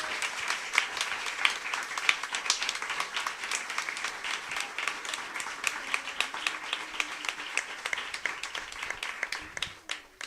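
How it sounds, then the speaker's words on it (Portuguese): A church congregation applauding during a sermon, dense steady clapping that fills the space throughout and thins out near the end. "pode aplaudir o Senhor."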